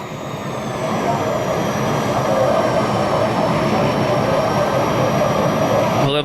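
A race car engine in Forza Motorsport accelerates along an oval track, a loud, sustained roaring drone with a steadily rising whine, continuous and close throughout.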